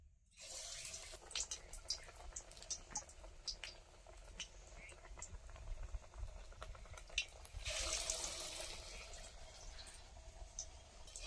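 Cauliflower chops sizzling in hot oil as pieces go into the pan, a soft continuous hiss and crackle with louder bursts, heard quietly at close range.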